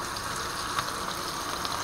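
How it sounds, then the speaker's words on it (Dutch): Fish frying in a pan at home alongside rice and vegetables, a faint, steady sizzle with a soft crackle or two, heard alone without talk. "de vis staat lekker te bakken."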